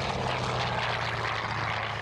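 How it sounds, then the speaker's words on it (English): Two F-15 fighter jets flying at the Oregon International Airshow in McMinnville, a steady loud engine roar that fills the sky without a break, with no voices. "The day began with this impressive display from two F-15s flown by Oregon Air"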